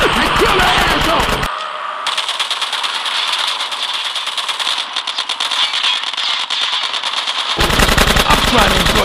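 Rapid automatic gunfire in a Grand Theft Auto cutscene, loud dense bursts at the start and end, with a quieter stretch of rattling shots and engine noise in between.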